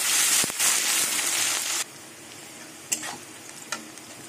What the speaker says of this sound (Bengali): এবার পেঁয়াজগুলো লাল লাল করে ভেজে দেবো।